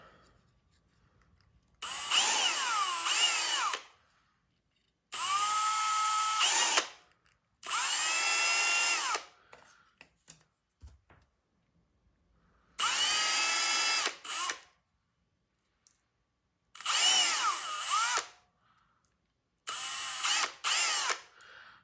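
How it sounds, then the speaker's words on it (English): A power drill whines loudly in six separate bursts of a couple of seconds each, with quiet gaps between them and nobody talking. "we will go ahead and get some of these other holes drilled out"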